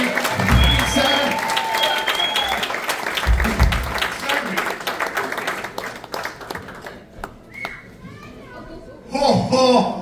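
A theater audience at a Charlie Brown Christmas show claps steadily as Santa comes on stage. Children's voices and someone talking sit over the applause, which thins briefly before a loud final burst.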